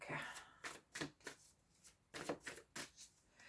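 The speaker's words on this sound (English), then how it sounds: "while I was doing the shuffling" Tarot cards being shuffled by hand, a sequence of soft papery riffles and snapping bursts in an uneven rhythm, close and quiet with no talking over them.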